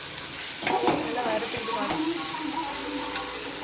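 Ingredients for a pirandai chutney sauté in oil in a pan with curry leaves and salt, giving a steady sizzle with a few stirring scrapes near the start.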